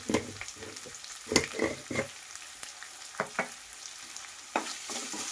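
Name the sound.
green chilli and capsicum frying for fried rice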